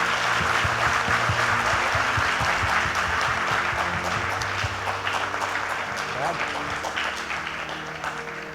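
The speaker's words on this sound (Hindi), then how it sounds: "ताली तो जोर से बजा दीजिए।" An indoor audience at a network marketing business seminar applauds steadily and loudly for several seconds, with dense clapping that slowly thins toward the end, no voices standing out.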